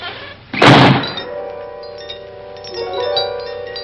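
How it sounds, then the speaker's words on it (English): A heavy solid-steel door in a haunted mansion slams shut with a single loud, booming thud, followed by a low sustained eerie tone. "Who closed the door?"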